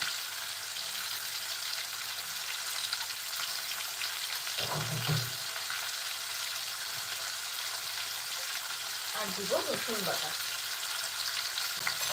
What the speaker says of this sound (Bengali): এখন আমি এর ভিতরে দিয়ে দিচ্ছি আদা বাটা